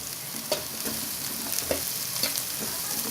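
Cumin, crushed coriander, salt and red chili powder are stirred in a hot pan for bhindi masala (okra), with a steady soft sizzle and several scraping spoon strokes, close by and without talk.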